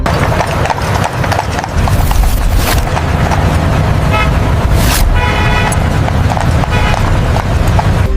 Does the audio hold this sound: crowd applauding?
no